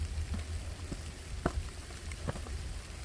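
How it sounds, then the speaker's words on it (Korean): Heavy rain falls on a mountain hiking trail, a steady soft patter of drops on surfaces with a few brief louder taps, no voices. "비가 많이 오네"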